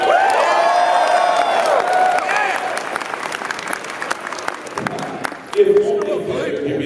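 A large panel audience at a convention bursts into loud, sustained applause with cheering and whoops, the clapping thinning toward the end as a voice starts over it.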